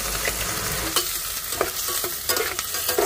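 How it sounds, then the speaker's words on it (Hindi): Garlic, onion and chilli fry in a pan on a truck driver's roadside cooking stove, giving a steady close sizzle broken by several scraping stirs of a utensil, with no talking. "इधर लहसुन डाल दिया अब जा रहे प्याज और मिर्चा डालने के लिए"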